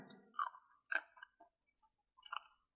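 Fresh lotus seeds are bitten and chewed up close, giving a few crisp, crunchy bursts separated by short pauses in an otherwise quiet room.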